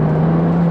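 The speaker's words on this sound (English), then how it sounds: "I just cannot get over how this car sounds" A 2017 Nissan GTR with a Stage 4 Litchfield upgrade and 675 bhp gives a short, loud, steady low engine drone with a strong humming tone, heard close up and alone.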